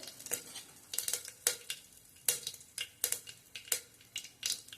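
Mustard seeds, cumin and curry leaves sizzle in hot oil in a pan, with a steady hiss and repeated sharp crackles and pops, close and clear with no talking.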